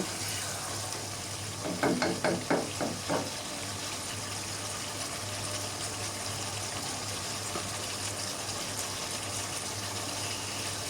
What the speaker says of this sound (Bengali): তারপর আবার আলুগুলো দিয়ে দিয়েছি এখন আবার নাড়াচাড়া করে একদম পানি টানিয়ে ফেলবো